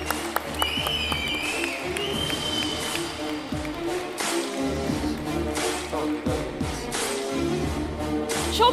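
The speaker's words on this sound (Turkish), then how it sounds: "Çok büyük alkışlarınızla bu kıymetli kalabalığı, emek veren herkese alkışlarımızla selamlayalım efendim." Sustained audience applause fills an award ceremony for a centenary march poetry competition, dense steady clapping from a large crowd throughout with no speech over it.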